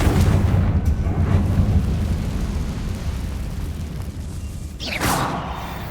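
A Confringo blasting spell booms in Hogwarts Legacy, a deep rumbling burst that swells then fades, with a sharp whooshing flare near the end.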